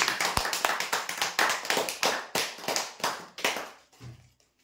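An audience applauds a prize-draw winner with a brisk burst of hand clapping, loud at first, then thinning and fading out after about four seconds.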